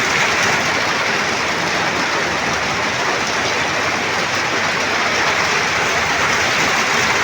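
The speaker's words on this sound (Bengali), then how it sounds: "বৃষ্টি হচ্ছে অনেক।" Heavy rain pours down outdoors as a loud, dense, unbroken hiss that stays constant with no talk.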